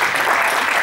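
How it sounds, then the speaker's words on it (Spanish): Short burst of group applause at a wall volleyball (front volley) session: dense, steady clapping, close by, lasting under a second. "Darle aquí una ovación a Miguel Ángel, que lleva aquí por día."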